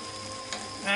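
Cabbage and tofu sizzle in a hot pan, a soft steady frying hiss that swells louder near the end as the food hits the oil or gets stirred.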